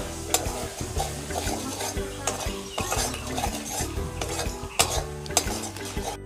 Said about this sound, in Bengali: দিয়ে এবারও আমি বেশ ভালো করে নাড়াচাড়া করে কষিয়ে নেব